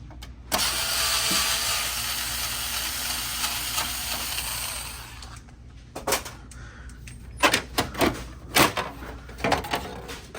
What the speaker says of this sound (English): And there's one screw here that you're going to want to remove.